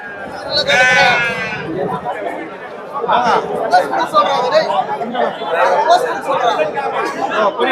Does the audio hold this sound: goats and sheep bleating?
yes